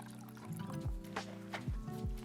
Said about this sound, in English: I'm going to decant some of this water.